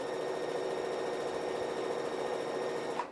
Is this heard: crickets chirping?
no